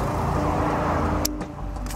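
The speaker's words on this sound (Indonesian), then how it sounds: "Sorry kalau agak berisik karena lokasinya memang di pinggir jalan ya." Steady roadside traffic hum from cars passing beside a vineyard plot, loud and continuous with a brief rattling click near the end; no one speaks.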